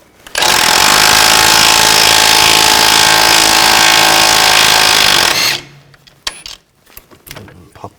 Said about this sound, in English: I'm gonna use a 22mm socket. Take this nut off.